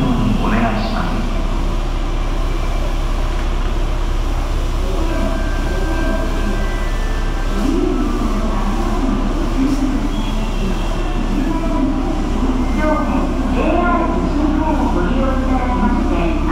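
A 117 series train rumbles into Okayama Station with steady low mechanical noise, while a Japanese public announcement voice talks over it throughout.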